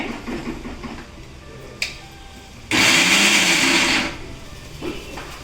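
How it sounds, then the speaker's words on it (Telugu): A mixer grinder jar whirs loudly for just over a second as it crushes about 100 grams of garlic in a home kitchen, starting abruptly and stopping, with quieter kitchen noises before and after. "ఇందులో మిక్సీ జార్లో వెల్లుల్లిపాయలు వేసుకుంటున్నాను"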